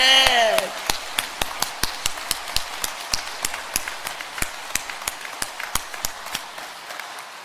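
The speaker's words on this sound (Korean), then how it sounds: "할렐루야 하고 박수하면" A church congregation claps in unison at a revival service, sharp, evenly spaced claps in a steady rhythm that continue for several seconds after a brief voice at the start.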